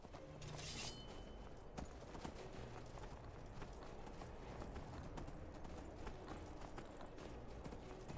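A horse in the video game Skyrim trots with steady clip-clopping hooves on hard ground, a quiet, continuous rhythm of hoofbeats running for about eight seconds with a brief bright sound effect early on.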